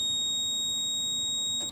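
A multimeter continuity test on a Goodman gas pack compressor winding gives a steady, loud, high electronic beep that holds without a break, then cuts off abruptly at the end.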